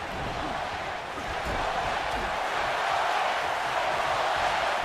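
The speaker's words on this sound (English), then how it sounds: "This crowd is going to blow the roof off this arena." Arena crowd roaring steadily in a WWE wrestling video game during a Triple H versus Braun Strowman match, a dense continuous wash of cheering that swells slightly partway through and holds loud to the end.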